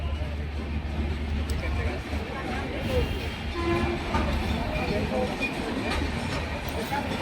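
Sairang Express stopping at Berhampore railway station, a steady rumble of train cars with faint clatter and a brief distant horn, under crowded platform noise.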